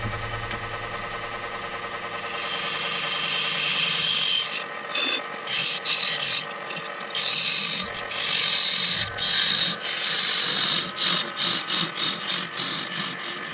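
A wooden Viking drinking cup being parted off on a wood lathe, a low motor hum followed by a loud, harsh scraping hiss of the tool in the spinning wood that comes in repeated bursts with short gaps.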